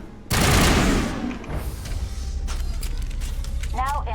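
Rapid burst-fire gunshots from the Mass Effect video game crack out loudly at first, then trail into softer background game noise with clattering effects.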